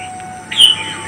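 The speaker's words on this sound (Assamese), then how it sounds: "ধুনীয়া ধুনীয়া চৰাইৰ মাত" Outdoor birdsong on a cool early morning: a single bright chirp rises briefly over a steady, faint ambient background, heard alone without any voices.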